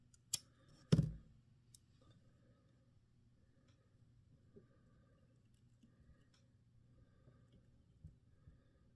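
Small scissors snipping thread while tying a Buford fly: one sharp snip followed by a couple of fainter clicks, close and quiet against a near-silent background.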